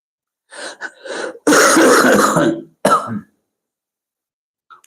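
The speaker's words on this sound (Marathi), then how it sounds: "खोकला येतोय काय लय मोसंबी खाल्ल्यामुळे" Several harsh, loud coughs close up from a person, a short fit followed by one more cough, then quiet.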